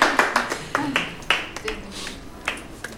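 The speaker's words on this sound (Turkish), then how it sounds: "Arkadaşlar alkışla tebrik ediyorum." Scattered applause from a small studio audience on a Turkish talk show, with uneven claps and bursts rising and fading across a few seconds, fairly close and without voices over it.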